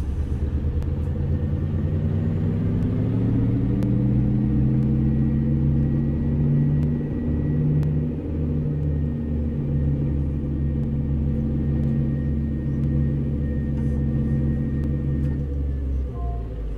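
A Mack Cruiseliner truck with a 12-speed Maxitorque transmission pulls away in American Truck Simulator, its deep diesel engine droning steadily with rising and falling harmonic tones as it gathers speed, loud and close throughout with no talk.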